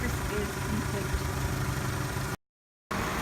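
A car engine idles steadily during a power steering fluid service, a close, constant mechanical hum and rumble that cuts out briefly before resuming.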